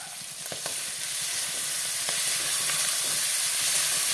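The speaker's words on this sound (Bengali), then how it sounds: "দেবো আদা বাটা, দিলাম কাঁচা লঙ্কা বাটা" Ginger and green chilli paste frying in a pan for a potato curry, giving a steady close hiss and sizzle that swells slightly, with a few soft stirring knocks early on.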